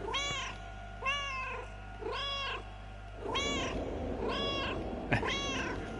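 A cat meows repeatedly in the video game Another Sight, six evenly spaced clear meows about a second apart over a steady low hum, with a rougher noisy background joining midway.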